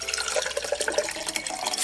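Freshly filtered water pouring from a ZeroWater filter pitcher into a mug, a continuous close splashing trickle that holds steady for a couple of seconds.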